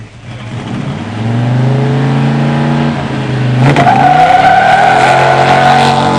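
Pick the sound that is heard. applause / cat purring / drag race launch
drag race launch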